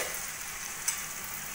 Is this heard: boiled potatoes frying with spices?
yes